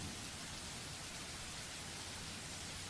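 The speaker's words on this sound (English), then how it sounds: "The rhythmic pitter-patter of the rain fills the early morning silence with a steady beat." Steady rain in a video game scene, an unbroken broadband hiss of falling drops that stays even and fairly quiet for the whole stretch, with no voices over it.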